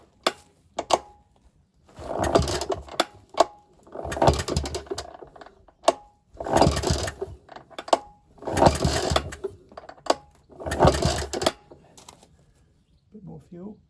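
A vintage Ner-A-Car motorcycle engine is cranked over repeatedly, about five bursts of rapid mechanical churning separated by pauses, close by, with sharp clicks in between.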